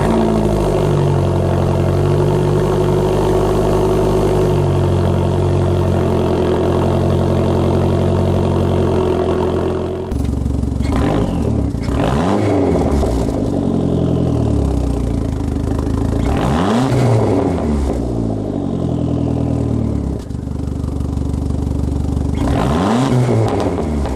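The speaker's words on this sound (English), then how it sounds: "nothing beats the sound of the SRT4" A Dodge SRT-4 engine settles into a steady idle after a cold start, then is revved in three distinct rising-and-falling bursts, loud and close, with the idle holding between each blip.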